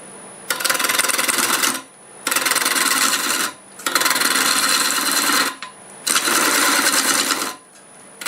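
Bowl gouge cutting the outside of a large wooden bowl spinning on a lathe, four loud sustained scraping passes of about a second and a half each, separated by short pauses.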